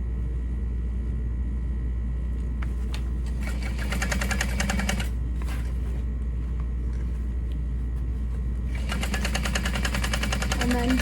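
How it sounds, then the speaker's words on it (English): A sewing machine stitches a woven label into the seam of a fabric-painted toiletry bag, running in steady close bursts with short pauses in between. "I'm just gonna sew into that seam"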